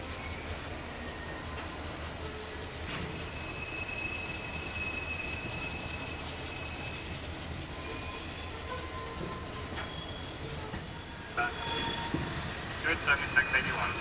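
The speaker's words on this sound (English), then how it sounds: "The covered hopper cars are beginning to move" Freight train covered hopper cars begin to roll, a low steady rumble with faint wheel squeal and metallic tones, quiet and distant, louder clanks building near the end.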